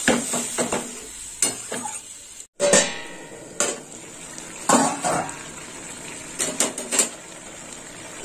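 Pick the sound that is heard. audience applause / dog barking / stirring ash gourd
stirring ash gourd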